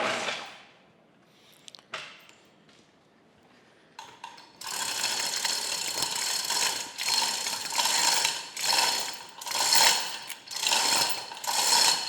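A chain hoist ratchets steadily while lifting part of a large cane mill on straps during restoration, a loud repetitive clicking in pulsing bursts after a few quieter knocks and handling noises.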